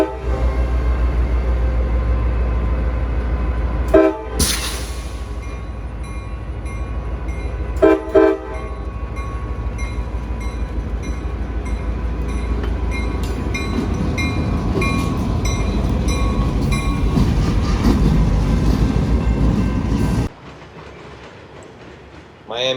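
A CSX freight train, L790, passes through Miami heading back toward Hialeah, a loud steady rumble with wheel clatter and two sharp horn blasts near the start, continuing close and heavy for about twenty seconds before cutting off.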